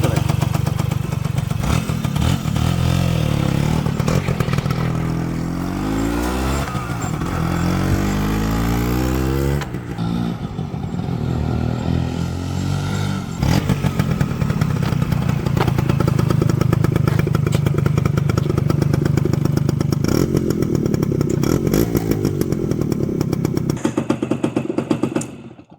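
Close and loud, a 1973 Suzuki RV90 motorcycle runs, its small two-stroke engine buzzing steadily with several throttle blips and revs over a long stretch, and a voice briefly talks over it.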